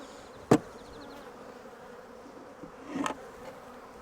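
Bees buzz around an opened beehive while nucs and splits are assembled, a steady close insect hum with a couple of sharp knocks from the hive boxes.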